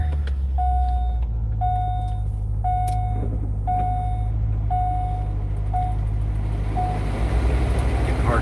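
A car's engine runs to clear fogged-up windows, a steady low rumble throughout, while a series of evenly spaced electronic chime beeps sounds over it about once a second.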